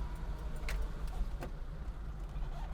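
A Datsun 120Y with an overhead valve engine, cold and driven with a window open, hums softly at low revs, giving a faint steady rumble with a few light clicks and no talk.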